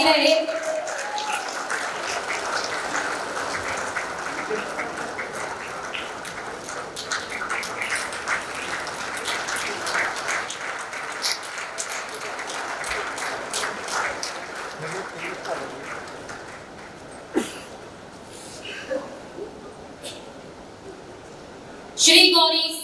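A crowd at the Champions of Change Maharashtra 2023 award ceremony applauds steadily for a long stretch, dense and sustained, then fades, with an amplified voice briefly cutting in near the end.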